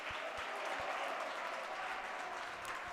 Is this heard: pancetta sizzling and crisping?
no